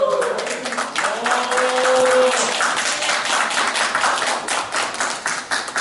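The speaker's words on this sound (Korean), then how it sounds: "한 박수 부탁드립니다" Audience clapping at a Korean political candidate's press conference for a National Assembly run, a steady patter of many hands sustained for several seconds, with a voice and a brief tone briefly heard over it.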